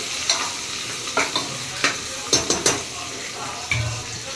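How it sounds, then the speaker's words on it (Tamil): Cinnamon and onions sauté in a pan for chicken biryani, a soft sizzle under repeated sharp clinks and scrapes of a stirring spoon against the metal, close and fairly loud. "பட்டை 2 வெங்காயம் போட்டு நல்லா வதக்கிடுறேன்."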